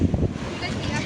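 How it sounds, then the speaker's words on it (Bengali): Strong wind buffets the microphone on a beach at Vizag, a loud, rough rumbling gust with surf noise behind, continuous throughout, while a person talks briefly. "প্রচণ্ড হাওয়া দিচ্ছে।"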